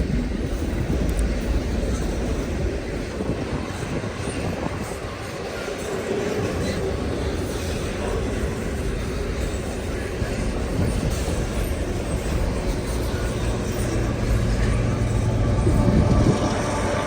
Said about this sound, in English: is just a regular intermodal train